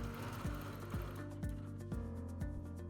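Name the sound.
quilting on a Bernina sit-down Q series sewing machine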